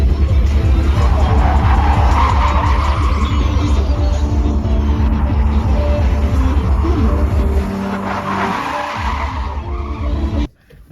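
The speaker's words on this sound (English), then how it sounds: "Here are a few clips of me drifting the car." A car drifting at the Valley Run event, with a sustained loud engine roar and long tire squeals across most of the stretch, easing somewhat near the end before cutting off abruptly.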